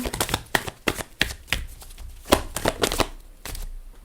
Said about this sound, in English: Let's shuffle some more.